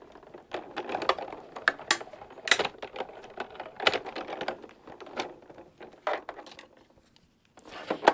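A paper crafting die-cutting machine cranks paper through, producing irregular clicking and rattling bursts, close and moderately loud, with short pauses between them and no talk.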